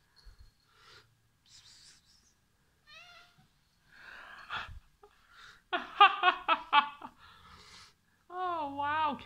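A pet cat meows several times in a short burst of rising and falling cries, loud and close, with someone talking, laughing and calling to it around the meows.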